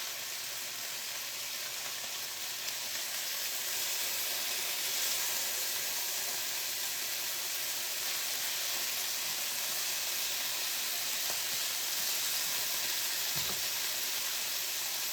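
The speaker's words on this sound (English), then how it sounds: "putting the spinach in, there's usually smoke everywhere, so I thought, well, I'll just do it in this little pan" Spinach frying in a small pan produces a constant, close hiss and sizzle with faint steam and a soft, even texture, holding steady for the whole stretch with no voices.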